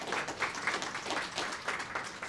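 A luncheon audience at a Kent Chamber safety event applauds state legislators, producing a dense, steady wash of many hands clapping at moderate distance throughout.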